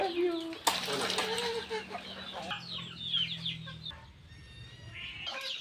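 Breeder chickens in a pen cluck and squawk close by, with a sudden burst of wing flapping early on and scattered calls throughout.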